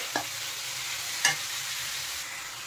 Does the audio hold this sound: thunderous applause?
no